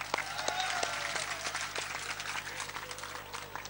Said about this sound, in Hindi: चलो जोरदार तालियों